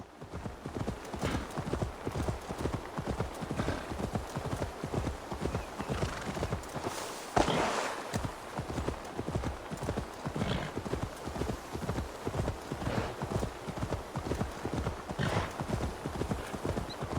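Horse galloping in Assassin's Creed Valhalla: steady, rapid hoofbeats keep a driving rhythm throughout, close and fairly loud, with a brief whinny or louder hit around the middle.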